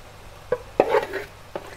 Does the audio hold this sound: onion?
yes